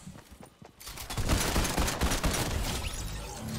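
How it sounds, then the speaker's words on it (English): Rapid shotgun fire from weak makeshift shotguns during a Fortnite gameplay fight; a dense burst of gunshots after a quieter opening second, loud and continuous to the end, with no talking. "these makeshift shotguns do, like, no damage"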